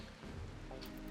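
Foggy rain in the video game RimWorld makes a soft, steady hiss of falling rain, faint and continuous with no voices over it.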